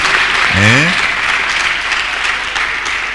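Audience clapping at a university commencement lecture, steady applause continuing throughout as a voice briefly speaks over the start.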